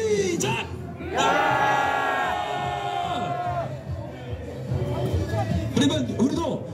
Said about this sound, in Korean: 저 우측을 향해서 함성 3초 시작!